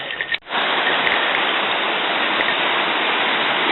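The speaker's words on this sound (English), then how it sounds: "One of the mini creeks that feed Lake McDonald, going onto the road." A small creek feeding Lake McDonald in Glacier National Park spills across a road, giving a loud, close, unbroken rush of flowing water after a brief dip at the very start.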